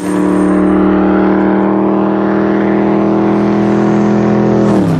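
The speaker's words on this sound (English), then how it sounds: "The bellow of a V8 Ford Mustang." A deep, loud Ford Mustang V8 engine bellows steadily at high revs, rough and throaty, then drops off sharply at the end.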